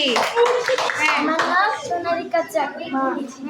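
A group of children claps for a classmate's handmade craft, uneven bursts of small hands slapping together close by while kids chatter and call out throughout.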